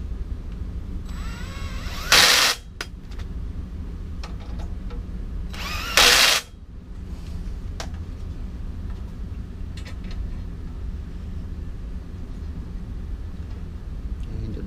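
Power tool driving and tightening bolts into a metal Gigabot 3.0 bed frame, two short loud bursts of about half a second each over a steady low background hum, otherwise quiet with faint clicks.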